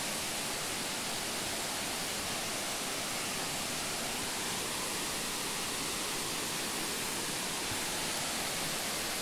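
Water from an underground stream flows out of a hillside in rural Minas Gerais, a steady, even rushing hiss that stays constant throughout, quiet and without any voices.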